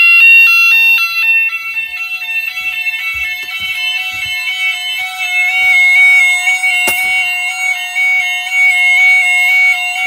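A Gent Vigilon fire alarm system under test blares loudly, repeating electronic tones in a stepped, cycling pattern with a brief clunk partway through.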